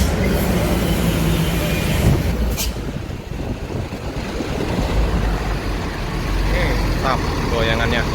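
A Rosalia Indah intercity bus, the MAD 159 bound for Jember, pulling away: deep engine rumble that rises and falls, heard nearby with voices in the background.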